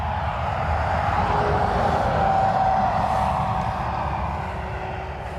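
A Ryanair airliner arriving at Dublin Airport, inbound from Palma de Mallorca, heard as a steady, fairly loud jet engine roar with a broad rumble that stays constant throughout, a faint tonal whine riding on top.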